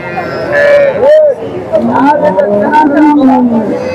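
Loud, close cattle lowing in drawn-out moos at a weekly Friday cow market in Palamaner with Jersey and HF cows, overlapping with busy voices and market chatter all around.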